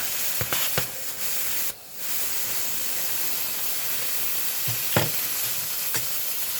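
Food sizzles loudly in a hot pan with a constant hiss, broken by a few sharp scraping clicks as a spoon stirs it, and a brief dip in the sizzle partway through.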